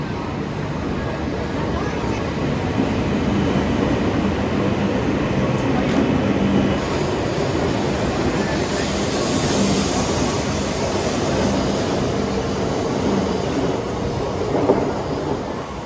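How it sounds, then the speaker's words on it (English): A Japanese Shinkansen bullet train departing rumbles steadily along with a deep, continuous roar and airy rushing, holding an even level throughout without voices. "I'll let you enjoy the beauty as our sleek train departs north again."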